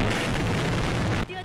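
Russian heavy artillery bombarding Ukrainian cities rumbles as a dense, continuous low boom with a broad noisy roar, sustained for over a second before stopping abruptly.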